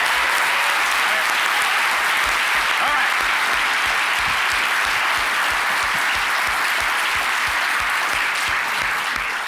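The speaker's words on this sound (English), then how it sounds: "A final round of applause for Ed Bilson." Audience at the BAHFest London 2023 comedy-science event gives a final round of applause, loud sustained clapping from a large crowd filling the whole stretch, with a brief spoken remark near the start.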